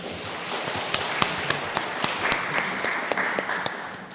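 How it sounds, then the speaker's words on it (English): Conference audience applauding a media panel in a hall, a dense, steady clapping with a few sharper individual claps standing out near the front, fairly loud and sustained. "So if we could just welcome our panel with a round of applause"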